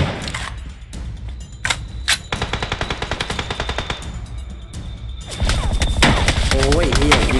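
Rapid bursts of automatic gunfire in PUBG Mobile, loud and close, running steadily with heavier blasts and shouted voices near the end.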